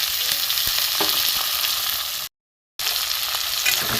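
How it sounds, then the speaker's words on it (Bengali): Steady, loud sizzling of salted, turmeric-coated shrimp frying with onions in hot oil, continuous hiss with occasional stirring, broken by a brief silent gap. "চিংড়ি মাছটা একটু ভেজে নেবো পেঁয়াজের সাথে"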